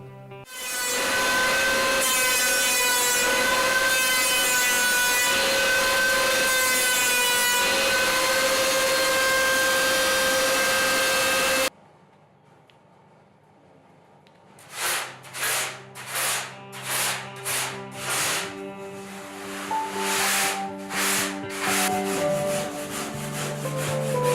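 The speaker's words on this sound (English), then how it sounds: "I do cross cuts with my electric planer" An electric planer cross-cuts a surfboard foam blank while shaping a retro fish: a loud, steady motor whine with rough cutting for about twelve seconds, then a near-silent gap followed by a series of shorter rhythmic bursts.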